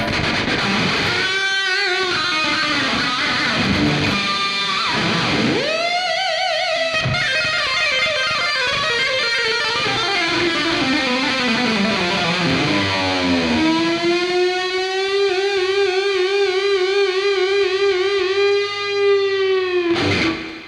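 Sustained electric guitar lead lines through an AX8 with heavy distortion, compressor and reverb, notes bending and held long with thick sustain, played alone and loud.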